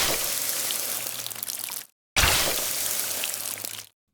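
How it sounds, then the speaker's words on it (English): A pouring sound effect for a video game, built from rain noise. It comes as two separate bursts of bright, steady, hissing water rush, each about two seconds long, split by a short silence. "The pouring sound turned out to be really satisfying, way more than I expected"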